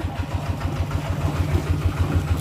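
A tractor engine runs close by with a steady, low, thudding diesel beat, loud and continuous with no voices.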